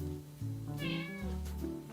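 A cat meows indoors, two or three drawn-out, close, moderately loud cries in quick succession with a rising, wavering pitch.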